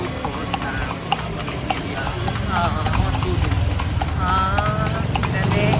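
Horse hooves clip-clop in a steady rhythm as a kalesa carriage is pulled through historic Intramuros, close and clear beneath a man's brief spoken reply and conversation.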